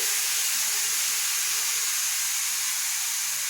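Steam hisses loudly and continuously from a pressure cooker of thin meat curry once its whistle is lifted off, a strong, even, close rush that holds steady throughout with no voices.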